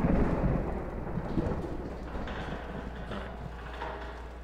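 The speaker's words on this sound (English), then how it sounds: "I like the rain sounds." Rain and rolling thunder ambience from the horror game The Mortuary Assistant: a low, steady rumble with soft rain hiss, faint and continuous, with no voices.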